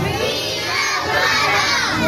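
A crowd of children at a public gathering shouting loudly together, a dense and sustained roar of young voices with no pauses.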